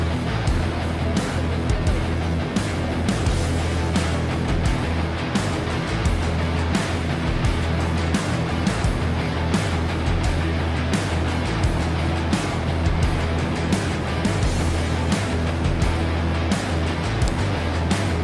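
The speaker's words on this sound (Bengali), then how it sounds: "এই রাস্তায় যেন একদম দাপিয়ে চলছে রয়্যাল এনফিল্ড" A Royal Enfield Classic 350 motorcycle cruising along the Kalyani Highway, a steady close engine drone with wind rush that holds unbroken and loud throughout.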